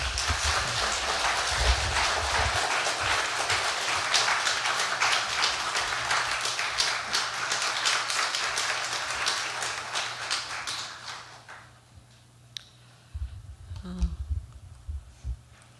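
A church congregation at a Baptist church claps to welcome a pastor to the front, a dense, steady, rain-like patter of many hands that carries on for about eleven seconds before breaking off into a quiet room with a low hum.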